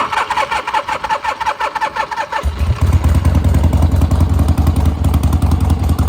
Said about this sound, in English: And that's a cold start.